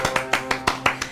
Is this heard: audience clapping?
yes